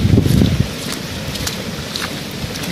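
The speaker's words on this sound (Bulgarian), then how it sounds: "Между другото, чувам и силата на водата." Floodwater rushes through a street in Pernik during a flood, a steady broadband roar with wind buffeting the microphone and a heavier low rumble at the start.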